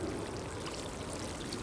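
Water poured steadily onto a lawn patch to flush out dog urine, a continuous dense rushing splash that stays even and close throughout, with no voices.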